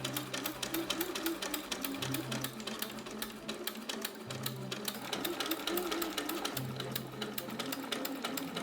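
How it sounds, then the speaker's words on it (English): A sewing machine runs top stitches on lace inserts for a blouse, a rapid close mechanical whirring in several short bursts separated by brief pauses. "I'm just gonna sew top stitches on the lace inserts before trimming away the excess fabric"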